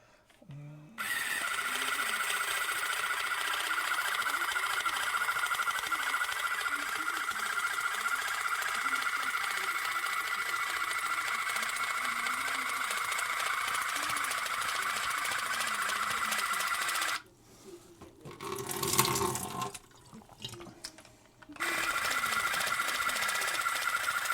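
Premium portable water flosser and electric toothbrush combo running, a steady buzzing motor hum that holds for about sixteen seconds, drops out briefly amid a few soft sounds, then resumes.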